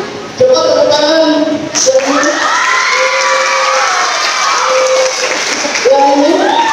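Children at a martial arts belt grading event clap and cheer as a group, loud and sustained, with shouting and an adult voice speaking over the crowd.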